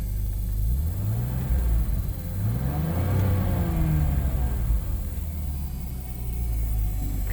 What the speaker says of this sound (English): Rev it up a bit.